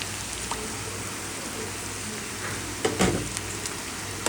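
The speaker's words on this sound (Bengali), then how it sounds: "এবার সবজিগুলোকে একটু পাশে সাইড করে রেখে এই তেলের মধ্যে দিয়ে দিব ডিম।" Three eggs poured into hot oil in a pan beside vegetables for fried rice, a steady close sizzle and crackle with a brief louder burst partway through.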